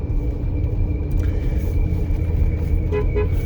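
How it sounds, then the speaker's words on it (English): A 1995 Lincoln Continental with a Mustang engine sits idling with a loud, low rumble, and its horn gives two short toots near the end. "Horn works."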